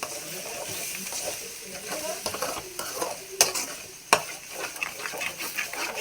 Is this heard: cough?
no